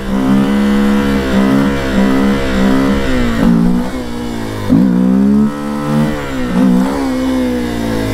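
Close, loud revving of a Honda XRE 300 dirt bike in stunt training, the engine droning steadily with several sharp throttle surges and short drops, no voices over it.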